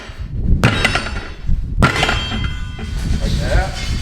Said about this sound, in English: You might have to hit it with a hammer